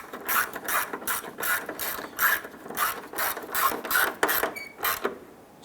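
A ratchet snugs down screws on the grille of a 1995-2001 Ford Explorer, with close, rhythmic bursts of clicking repeated about a dozen times at a steady pace.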